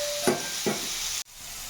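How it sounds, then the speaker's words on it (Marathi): Bitter gourd with green chillies dry-frying on a tawa: two quick scraping stirs over a steady sizzle, close by, before the sound abruptly cuts off. "याला छान फ्राय होऊ द्यायची."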